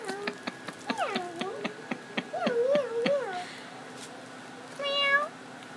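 A cat meows several times up close, with drawn-out, wavering cries, among light clicking and a person's voice nearby.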